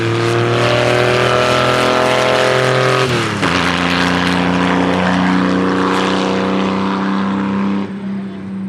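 A Chevrolet Corvair racing on a track at a Corvair event, its engine droning loud and steady with a sharp shift in pitch partway through, then sustained roaring before easing off near the end.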